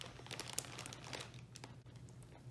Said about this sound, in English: kind of like this plastic bag.